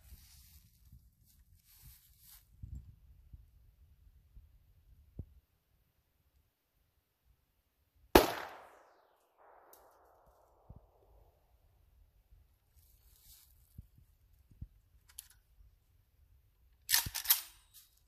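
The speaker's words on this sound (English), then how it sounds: "We're going to shoot it one time and see." A single sharp gunshot from an AK rifle firing 7.62x39, one loud crack followed by a brief trailing rattle, set among long stretches of quiet outdoor ambience and faint handling noises.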